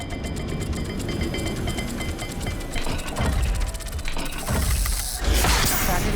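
A dial puzzle mechanism turns in Hogwarts Legacy, giving a dense run of ratcheting clicks and grinding mechanical rattles. The sound holds a steady loudness for about six seconds, with a few heavier clunks near the end.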